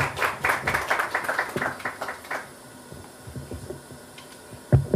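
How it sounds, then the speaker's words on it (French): Scattered clapping from a small crowd greets an ambassador at a press gathering in Brussels, fading out after a couple of seconds and leaving quiet room noise, with a brief bump near the end. "on applaudit s'il vous plaît."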